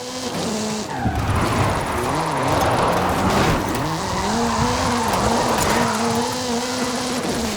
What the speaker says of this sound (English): This is Mr. Kenneth Block's Hoonigan Gymkhana 10 Ford Focus RS RX